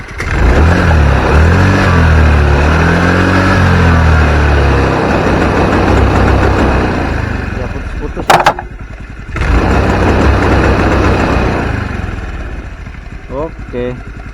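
Honda Vario 110 scooter engine running close and loud, revving and holding at mid RPM with a rough, uneven drone, a short sharp clatter in the middle, and brief talk near the end.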